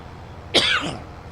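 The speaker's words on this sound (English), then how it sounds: "that little cough is going to be annoying to me" A single short cough, close and fairly loud, rising out of a low background hum and fading within half a second.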